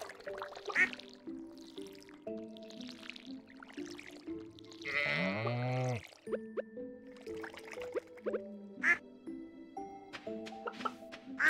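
A goat in the farming game Stardew Valley lets out one loud, wavering bleat midway through, layered over light, plinking farm music that plays throughout.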